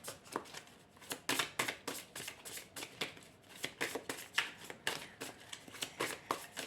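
Oracle cards are shuffled by hand in quick, uneven bursts of soft papery riffling and slapping, close and fairly quiet, with brief pauses between flurries and no talk over them.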